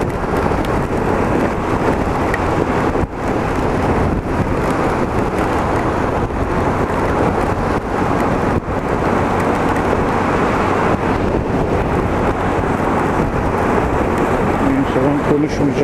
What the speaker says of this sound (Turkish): İnsafsız şu anda rüzgar.